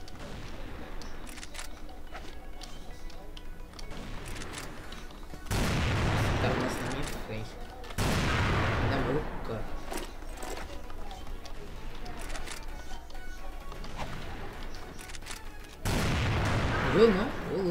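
Barrett sniper rifle fire in the shooter game CF-AL sounds as a few sharp, heavy booms spread across the stretch, among other gunfire and game noise, with players talking excitedly throughout.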